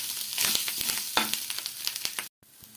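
Clam meat roasting Kerala style in a pan, a steady close sizzle with scraping stir strokes from a spatula, then a brief pause near the end.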